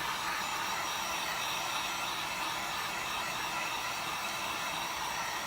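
A heat gun blows a steady, loud hiss of hot air close by while warming the back glass of a Samsung Note 8 during a repair, unbroken from start to end.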